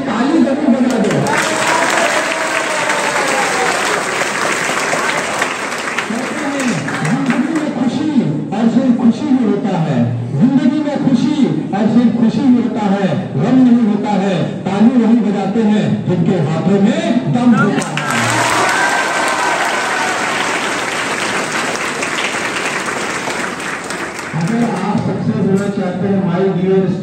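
Listeners at a motivational lecture clap loudly and continuously, a thick wall of applause with some laughter that dips briefly before surging again, a speaker's voice occasionally under it.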